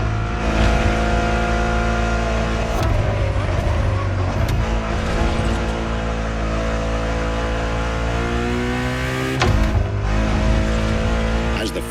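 Ferrari Enzo supercar engine revving loudly in The Crew Motorfest, a deep, steady roar that climbs and falls in pitch through several gear changes, with a brief tire squeal and no voices over it.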